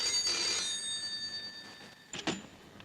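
A telephone rings with a bright, sustained electronic tone, fading out, followed by a brief clunk.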